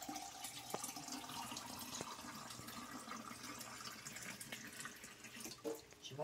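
Water pours from a tap or jug into a cooking pan of figs for syrup, a steady close splash and trickle lasting several seconds, with a few clinks near the end.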